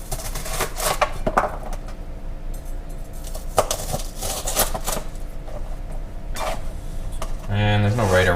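A knife chops an onion into big chunks on a board, giving a run of sharp, irregular knocks close by, with a voice talking near the end.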